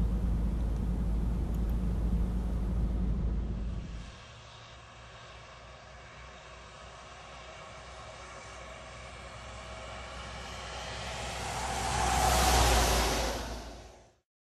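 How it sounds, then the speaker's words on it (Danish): A new Euro 2 truck engine lugs at unusually low revs, a loud, steady diesel drone that drops to a quieter, even rumble after a few seconds, then swells again briefly near the end. "Læg mærke til, at den nye Euro 2-motor, vi kører med her, kan køre med et væsentligt lavere omdrejningstal, end vi er vant til tidligere."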